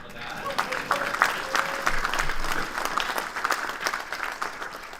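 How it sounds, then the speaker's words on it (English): Audience applause in a room at a members' gathering, clapping spread across the full stretch at moderate loudness, fairly steady, with some voices mixed in. "round of applause for that"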